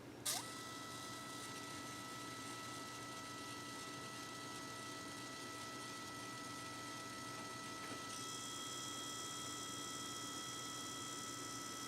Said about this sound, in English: hold the printer like this so you can hear it and see it work